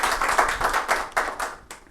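An audience at a Rajasthan Parishad honouring event claps in a series of sharp, rhythmic bursts that taper off after about two seconds, close and fairly loud, with no speech.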